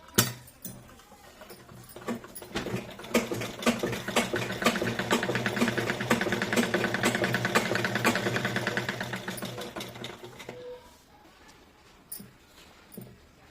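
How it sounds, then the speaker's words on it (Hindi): Sewing machine running steadily for about ten seconds while stitching a folded waistband strip onto pleated palazzo pants, a continuous close mechanical whir that stops near the end, with a few handling clicks after. "अब इसके ऊपर इस तरीके पलट के पट्टी के ऊपर सिलाई लगाऊंगी।"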